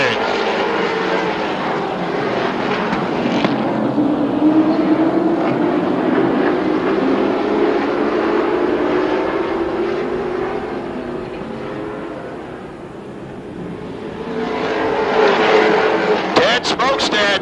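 Stock cars roar off at the start of the 1991 Northern Series 200 at Rockford Speedway, a loud, sustained engine drone that swells and fades as the pack passes, with an announcer talking over it.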